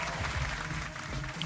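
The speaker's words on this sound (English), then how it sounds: "Round of applause." A round of applause from a crowd in a Roblox Murder Mystery 2 game session, steady clapping running evenly through the short stretch at moderate distance without pauses.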